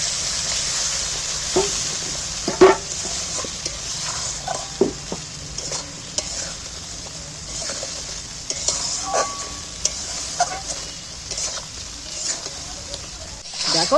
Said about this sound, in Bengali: এইবার আমি মশলাটাকে ভালো করে কষিয়ে নেব